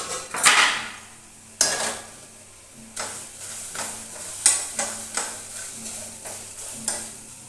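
Onion and half a tomato being stirred in a pan for a sweet corn masala chaat, with a sharp clatter and sizzle at the start followed by regular scraping strokes of a spoon against the pan, close and fairly loud.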